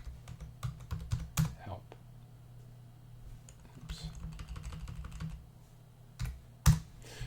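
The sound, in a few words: typing a command on a computer keyboard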